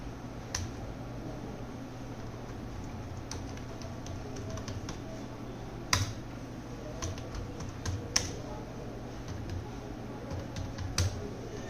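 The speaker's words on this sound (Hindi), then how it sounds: "मैंने एक टाइपिंग करी" Typing on a computer keyboard in a quiet room, scattered soft key clicks with a few sharper taps standing out over a low steady background hum.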